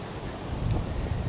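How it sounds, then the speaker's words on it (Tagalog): A river rushes close by in Borgund, Norway, a continuous broadband water roar mixed with gusty wind buffeting on the microphone. "Naririnig ba yung ragasan ng tubig sa river?"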